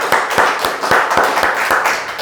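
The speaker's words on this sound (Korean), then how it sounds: "우리 주님께 감사와 영광의 박수 올려드리겠습니다." A church congregation at a Sunday worship service claps together after a prayer, a steady run of rhythmic, fairly loud handclaps filling the sanctuary.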